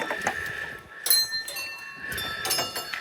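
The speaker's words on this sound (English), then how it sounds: "And whenever they go a full revolution, you hear the bell ring." A small bell on a turning prayer wheel at a temple rings out in a couple of bright metallic strikes with lingering ringing tones, mixed with soft clinks and quiet ambient background.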